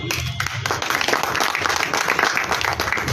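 Applause at a district-level armed forces ex-servicemen honour ceremony in Gangapur City, a crowd clapping steadily and loudly throughout the short stretch.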